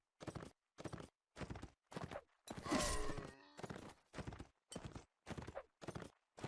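Horse hooves clip-clop in a steady walking rhythm inside the Mount & Blade: Warband video game, with evenly spaced, fairly loud footfalls and one brief burst of louder clatter partway through.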